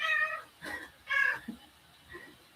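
A house cat meows several times indoors, loud and close, with a few drawn-out calls separated by short pauses and softer chirps at the end.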